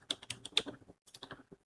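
Quick, close clicks of a computer keyboard as a captcha is typed in, about a dozen keystrokes in two short bursts separated by a brief pause, with no talking.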